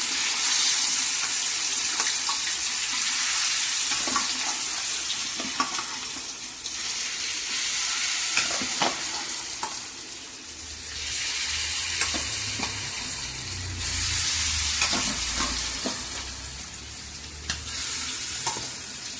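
Fish pieces sizzling and crackling steadily in hot oil in a pan, a dense continuous fry with occasional sharper pops and bursts as the fish shifts, close and fairly loud, with no talking.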